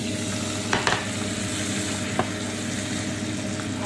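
Soy sauce hits chicken wings frying in a pan, giving a loud, steady sizzle with a few sharp spits and crackles, close up and with no voices.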